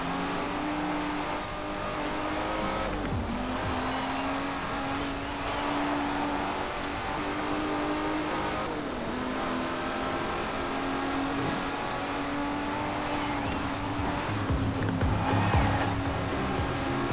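A powerful rear-wheel-drive car engine revs and drones steadily in Forza Horizon 4, a continuous loud engine note with rising and falling pitch, no talk.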